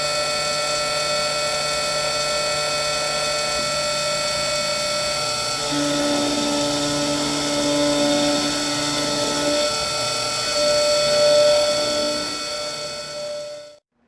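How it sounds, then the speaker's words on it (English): A Roland Modela desktop mill cuts a PCB with a steady, high-pitched whine, loud and close, shifting pitch partway through and then spinning down at the end. "So I click begin milling, and it's going to begin here in just a second."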